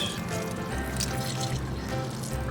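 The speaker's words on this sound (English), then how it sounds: "You wanna squeeze the water out." Softened gelatin is squeezed by hand, giving wet squelching and dribbling water that trickles and drips close up in a low, steady stream.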